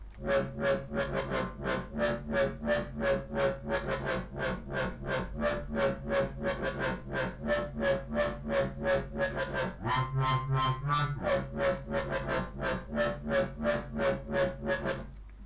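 A pulsing jump-up drum and bass synth sub-bass line shifted up an octave plays in a steady repeating rhythm, with a brief filtered swell midway and no voices.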